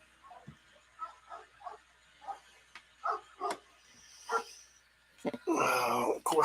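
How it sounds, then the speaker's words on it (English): A dog barks several times in short yips and woofs, fairly distant and moderate in volume, ending in a louder, longer bark burst near the close. "of course, my dog decides to bark"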